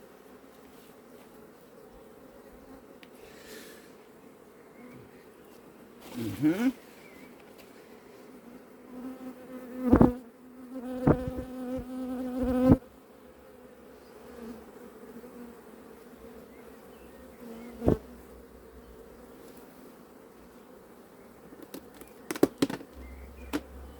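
A continuous low buzz of honeybees hums throughout as a queen is placed into a hive split, with occasional louder close passes and brief knocks; a short murmur from a person is heard once.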